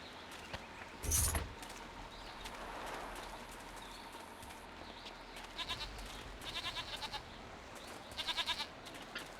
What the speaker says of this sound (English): Greetings, Master Goat